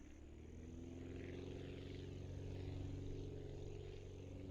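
Aircraft engine and propeller in the video game Aviassembly, throttling up: a low, steady droning buzz with layered harmonics that swells slightly and holds, fairly faint, with no talk.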